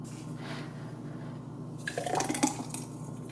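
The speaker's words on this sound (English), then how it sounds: "you can watch me pour the slushies" Slushy being poured into cups at home during summer meal prep, a soft watery pour and trickle that swells in the middle of the stretch over a steady background hum.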